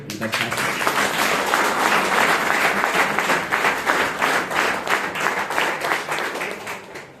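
A crowd claps in sustained applause, a dense patter of many hands lasting several seconds.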